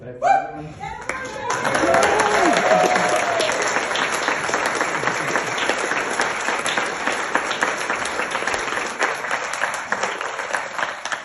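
Audience applause at a band concert swells quickly into dense, sustained clapping from a large crowd, then slowly thins and fades toward the end.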